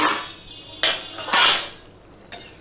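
A metal lid set onto a cooking pan of bhindi and potato curry gives a few sharp clanks and rattles, spaced apart with short ringing tails, close by and with no talking.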